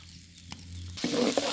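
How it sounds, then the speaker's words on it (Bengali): Garlic and dried chili hit hot oil in a wok, a quiet start giving way to a sudden loud sizzle that keeps crackling close and steady. "কড়াইতে কিছুটা তেল দিয়ে দিয়েছি। এখন আমি রসুন এবং মরিচ আমি দিয়ে দিলাম।"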